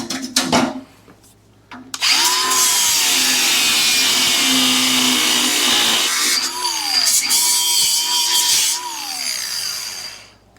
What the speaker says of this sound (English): we'll grind that sucker off